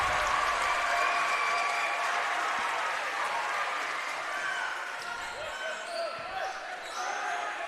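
A crowd cheers and applauds at a state semifinal volleyball match, a loud sustained roar of clapping and shouting in a gym that continues throughout.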